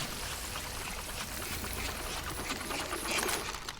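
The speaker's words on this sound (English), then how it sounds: "it's just a straight water sound" A continuous rushing spray of water from a Overwatch 2 water blaster effect, steady and fairly close, like a jet blasting without letting up.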